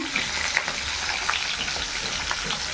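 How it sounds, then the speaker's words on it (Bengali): Fish frying in a pan gives a steady, dense sizzle with scattered crackles and pops throughout, close and moderately loud, with no talking. "আর এই যে মাছগুলো ভেজে নিচ্ছি"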